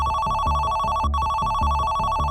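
A telephone rings for an incoming call, loud and close, with a steady electronic tone pulsing in a fast repeating rhythm and a brief break midway.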